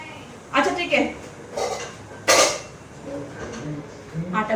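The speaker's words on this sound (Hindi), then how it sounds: "निष्ठा बेटा, मैं बर्तन लगा रही हूँ" Pots and dishes being put away in a home kitchen: a few clattering clinks and knocks of metal and ceramic at irregular intervals, fairly close, with a voice talking between them.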